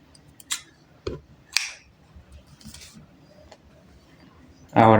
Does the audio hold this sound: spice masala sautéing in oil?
no